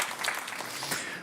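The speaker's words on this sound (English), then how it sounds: "You get applause just for being here." Short burst of audience applause at a university climate-action conference, moderately loud dense clapping that fills the moment without any voices.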